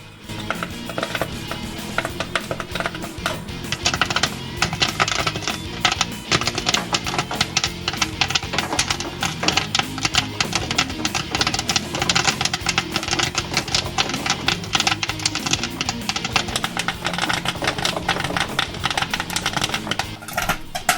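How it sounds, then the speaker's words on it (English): Popcorn pops continuously in a kettle popper, a dense rapid crackle of many overlapping pops sustained at a steady, fairly loud level for about twenty seconds. "When we added that room temperature sugar, it brought the temperature down of the kettle, and that's what slowed down the popping."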